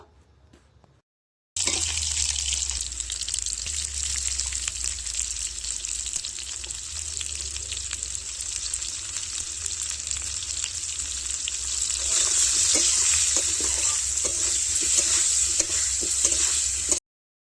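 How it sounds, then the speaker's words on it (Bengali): Potatoes seasoned with salt and turmeric fry in oil in a wok, a steady, dense sizzle that begins abruptly after a brief quiet start and runs continuously, growing slightly louder and crackling near the end. "আলুটা ভেজে নিচ্ছি"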